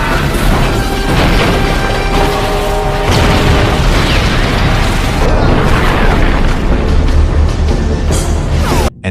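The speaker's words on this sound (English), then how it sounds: "The sheer clash of their energy creates a massive explosion," A huge, sustained explosive roar with crashing, rumbling debris, loud and dense throughout, cutting off abruptly at the end.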